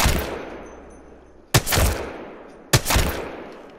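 Three separate, sharp single shots from the Alternator gun in Apex Legends, fired in single fire mode, each loud and close with a short decaying tail, spaced about a second apart.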